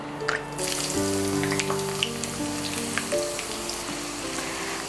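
Sliced onions frying in hot oil for chicken peralan, a steady crackling sizzle with bright spitting pops, heard alone close up while tonal kitchen hum sits underneath.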